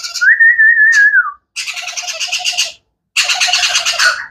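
A baby crimson-bellied conure parrot gives a loud, close whistled call, then two bursts of harsh raspy squawking separated by short pauses.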